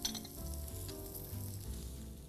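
Chopped carrots, celery and onions fry in a seasoned Lodge cast iron skillet, giving a steady close sizzle with no talk over it.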